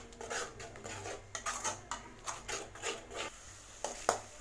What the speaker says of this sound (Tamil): தக்காளி நல்லா வதக்கி விட்டுக்கோங்க